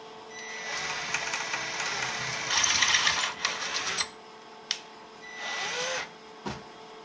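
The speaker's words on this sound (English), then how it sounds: "so let's drill through" A power drill bores through metal on the water pump housing of a Kubota KX-91-2 mini excavator, a sustained grinding whine that swells and strains, stops, then returns in shorter bursts with sharp clicks between.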